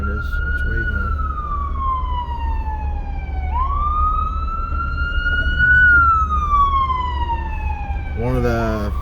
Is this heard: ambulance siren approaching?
yes